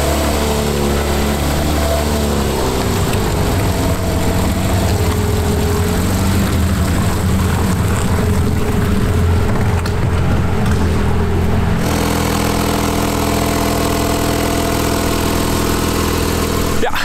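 A Porsche 911 Carrera 4 GTS of the 991.2 generation idles while warming up, giving a loud, steady, close engine drone whose pitch shifts slightly partway through, with no talking.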